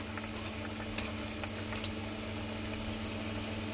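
Pea-stuffed kachori, a puffed stuffed flatbread, frying in hot oil in a pan, giving a steady close sizzle with occasional soft pops and crackles throughout.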